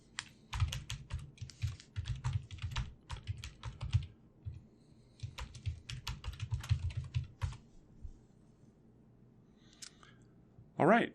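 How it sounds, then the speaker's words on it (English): Someone types a username and password on a computer keyboard at a login page, rapid close clicking keystrokes in two bursts with a short pause between, ending with a brief louder tap. "a secure login page where you just enter your username and password."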